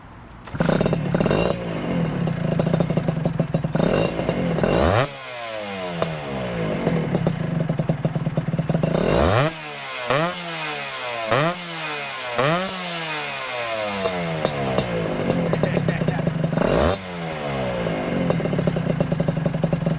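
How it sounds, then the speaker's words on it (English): Single-cylinder engine of a 1996 Honda Nova Dash 125 motorcycle with an aftermarket pipe, idling loud and close with a rapid two-stroke rattle and several sharp throttle blips that rise and fall. "Hang on, let me start it up so you can hear it."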